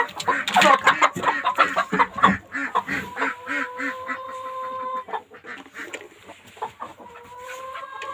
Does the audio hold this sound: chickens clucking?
yes